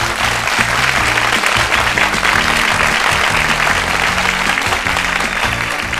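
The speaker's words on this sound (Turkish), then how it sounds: "Tebrikler. Alkış Türkiye." Studio audience applauding on the Turkish game show Büyük Risk, a dense, steady wash of clapping that stays loud and even from start to finish with no voices over it.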